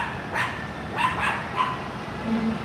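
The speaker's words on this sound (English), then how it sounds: "Instead, I heard a dog bark." A dog barks several times in short, spaced yaps at a moderate distance over steady city street noise on a New York sidewalk.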